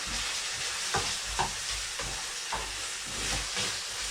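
Food fries over high heat in a pan with balsamic vinegar, giving a steady close sizzle and hiss with a few soft stirring scrapes.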